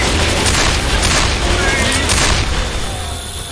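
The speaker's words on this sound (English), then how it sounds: "Throwing a pipe bomb!" Pipe bomb detonating in the zombie shooter game Left 4 Dead 2 on the Dark Carnival campaign, a loud dense rumbling blast that fills the whole moment with sustained noise before easing slightly.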